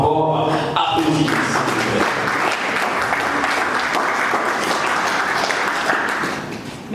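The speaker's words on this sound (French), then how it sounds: "est-ce qu'on peut encore applaudir?" Audience applause at the premiere of the film Sabu Eyindi Somoo, a dense, loud wash of many hands clapping that rises after a brief tonal opening and holds steadily for several seconds before easing slightly at the end.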